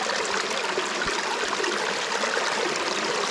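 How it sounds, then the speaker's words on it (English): Water spilling over from a micro hydro penstock, about 20 gallons per minute, makes a steady close splashing and trickling rush that holds even throughout, with no voices. "the water mark here where it's spilling over is running about 20 gallons per minute right there"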